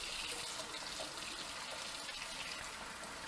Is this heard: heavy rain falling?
no